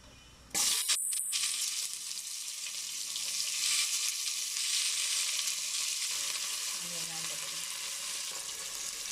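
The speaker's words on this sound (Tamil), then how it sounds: "இது வெங்காயம் வதங்குது" Chopped onions for a soya bean biryani hit the pan with a sudden, loud, steady sizzle that continues unbroken, close and without voices.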